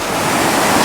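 A river or stream in Palawan, steady broadband rushing water that holds evenly loud and close throughout, with no voices.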